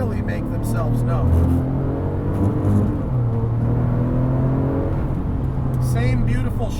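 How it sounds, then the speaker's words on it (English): A Porsche 997 GT2 RS with variable geometry turbos accelerates hard in second gear up a hill, its engine a loud, continuous droning rumble with rising and falling harmonic tones heard from inside the car. "As you squeeze second to climb that hill, that's when those variable geometry turbos really make themselves known."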